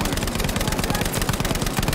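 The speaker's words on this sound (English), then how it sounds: "I'm getting shot at." Battlefield V gunfire in a co-op mission: a dense, continuous rattle of rapid automatic shots filling the whole stretch, loud and close.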